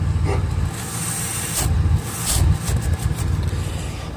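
A 4.6 engine idles steadily after a catalytic converter replacement, a low, even rumble with a faint hiss and a brief rise in the middle.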